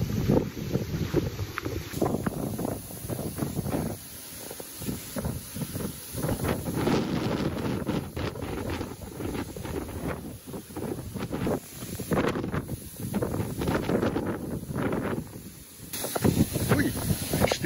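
Wind gusts through reeds beside a harbour with boats, a steady loud rushing hiss with buffeting on the microphone, rising and easing in waves throughout without speech.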